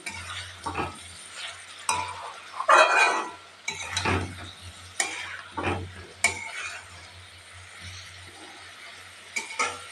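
Onion, ginger and garlic paste for a shol fish curry is stirred in a pan: intermittent scraping spoon strokes over a soft, close sizzle.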